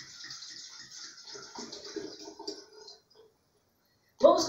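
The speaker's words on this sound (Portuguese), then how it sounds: "Vamos colocar 1 litro de água para ferver." One litre of water is poured into a pot or kettle to boil for tea. The steady splashing pour runs, then tapers into silence before a sudden louder burst.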